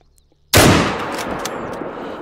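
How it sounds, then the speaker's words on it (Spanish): A single close, loud .303 British rifle shot fired at an ibex in theHunter: Call of the Wild. The sharp crack follows brief quiet and trails into a long, echoing tail, with no talking. "Disparo al corazón con el 303 British."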